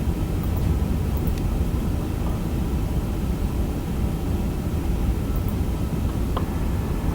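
A heavy aircraft takes off from runway 23 left at Manchester Airport, heard as a steady, broadband engine roar that holds at an even level throughout, with no talk over it.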